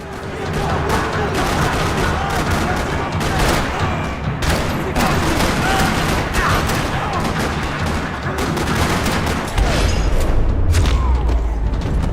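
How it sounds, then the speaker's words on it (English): Sustained gunfire in a parking lot from the video game Max Payne 3, dense rattling bursts and booming shots packed together, loud and continuous for several seconds with a heavy low thump near the end. "Another parking lot rattling with gunfire."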